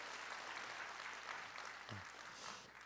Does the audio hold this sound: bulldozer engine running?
no